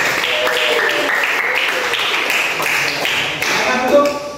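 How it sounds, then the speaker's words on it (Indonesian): Classroom audience clapping for a group presentation in a teacher-training session, a steady patter of claps throughout with voices mixed in. "berikan aplaus untuk kelompok 4"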